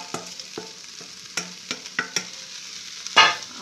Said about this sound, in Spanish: Ahora lo voy a mezclar.